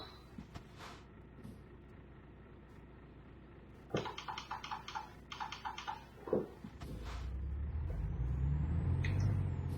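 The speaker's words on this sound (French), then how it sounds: "J'ai mis les freins à fond, sinon là, il n'y aurait plus de camionnettes là." Truck air brakes applied hard in Euro Truck Simulator 2: a rattling burst of brake hiss and clatter midway, with sharp thumps, then a rising low rumble of the truck, no talk.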